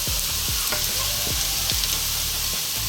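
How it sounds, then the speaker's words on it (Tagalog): Lumpia filling frying in a pan: a loud, steady sizzle fills the whole stretch, with repeated scraping strokes of a spatula stirring through it at a regular pace and no voices. "Lulutuin lang natin yung filling para sa lumpia."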